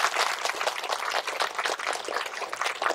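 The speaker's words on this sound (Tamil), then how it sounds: "அவருக்கு ஒரு கைதட்டுங்க, ஜோரா" A crowd at a Lenten preaching gathering claps together in dense, sustained applause, loud and steady throughout.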